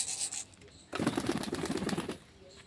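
Several pet pigeons, seven birds kept in a loft, give soft low cooing and rustling, with a busy flurry of coos and wing movement swelling in the middle before settling back to quiet.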